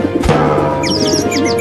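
A pigeon calls close by, a low hum joined by a quick series of bright chirping notes over less than two seconds.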